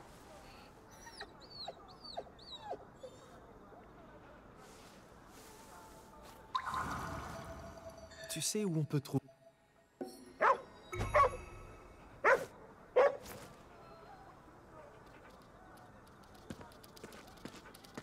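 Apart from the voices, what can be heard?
dogs barking in the video game Ghostwire: Tokyo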